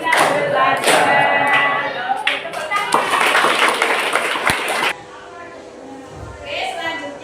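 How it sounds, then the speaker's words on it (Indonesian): Children clap their hands in a classroom counting game led by a teacher, bursts of close, sharp claps in rhythmic groups mixed with voices, then quieter room sound after the clapping stops. "Tepuk jari 4. Tepuk jari 5. Tepuk semua."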